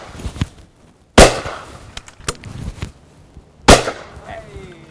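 Two loud, sharp shotgun blasts from a Purdey hammer gun, a few seconds apart, with quieter knocks and handling clicks in between and faint talk in the background.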